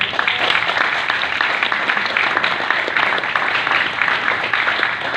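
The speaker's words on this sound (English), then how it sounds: "You well deserve this round of applause" Audience applause for the winner of the 2019 Teresa of Calcutta Award, a dense, steady roar of many hands clapping, loud and continuous throughout.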